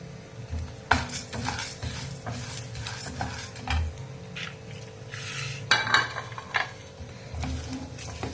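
Urad dal and chana dal fry in oil in a pan, giving a soft sizzle under occasional clinks and scrapes of a stirring spoon against the metal, fairly quiet and close.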